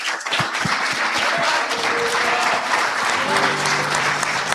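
Steady applause from a church congregation fills the hall, loud and continuous throughout, with a faint voice or tones sounding briefly under the clapping.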